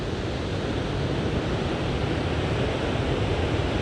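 Waves and foam running up the sand at Centerville Beach near Ferndale after the king tides, a loud, dense, unbroken roar close by, with some wind buffeting the microphone.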